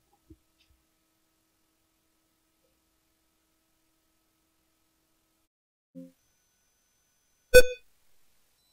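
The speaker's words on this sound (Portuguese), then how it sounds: "fez um bip aí, só para começar" A single short electronic beep from an Arduino Uno buzzer in a stacker game build, sharp and close, preceded by a faint soft tone and otherwise surrounded by silence.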